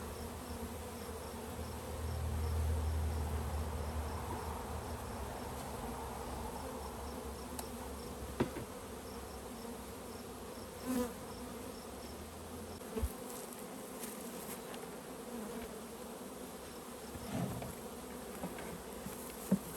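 Honeybees at a swarm catch box in Michigan hum in a faint, steady, low drone, with a few soft knocks and bumps scattered through and no talking.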